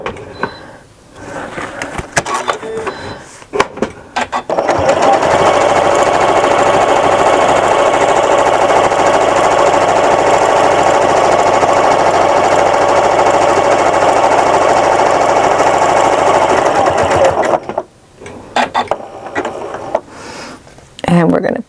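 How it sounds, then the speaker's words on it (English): Sewing machine stitching a straight seam across a bag, a loud, steady mechanical whir that runs unbroken for about thirteen seconds, with brief stop-and-start handling noises before and after it. "And stitch straight across."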